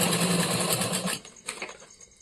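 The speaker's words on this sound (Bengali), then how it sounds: "এই যে ডাবল সেলাই করতে শুরু করে দিলাম" A sewing machine runs a fast, steady double line of stitching along a homemade market bag for about a second, then slows and stops in short, quieter bursts.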